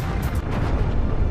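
A single explosive-welding blast drives a cladding plate into a backer metal plate, heard as a sustained loud, low rumbling roar lasting over a second with no talk.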